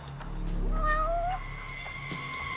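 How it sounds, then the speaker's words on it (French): A cat in the video game Judgment gives a single drawn-out, rising meow, fairly close and clear over a faint ambient hum. "Oh, tiens, un chat."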